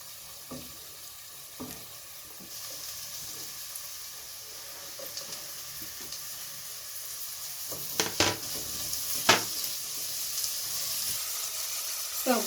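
Red capsicum frying with onions in a pan gives a steady hissing sizzle, moderately close, broken by occasional clinks and scrapes of stirring.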